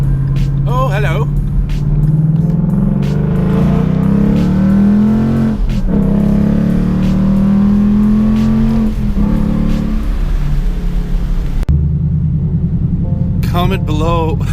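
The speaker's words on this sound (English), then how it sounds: "installing twin loop mufflers on your EVO 10 again is a thing you don't do" A Mitsubishi Lancer Evolution X fitted with twin loop mufflers revs loud and close, its droning exhaust note climbing and falling over several seconds, cutting out, then returning briefly with a voice heard at times.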